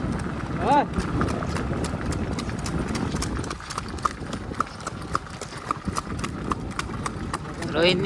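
Mare's hooves clip-clop in a quick, regular rhythm close by, with a short voice-like cry near the start and end.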